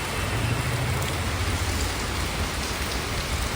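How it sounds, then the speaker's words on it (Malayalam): Heavy monsoon rain pours down steadily on a house yard and its plants, a loud, unbroken hiss of falling water with a low rumble beneath and no talking. "നല്ല അടിപൊളി മഴയാണ്."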